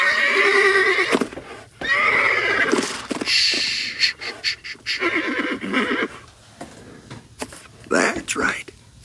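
A cartoon horse whinnies and neighs in loud bursts, interspersed with hoof clatter, while a voice speaks softly between the calls.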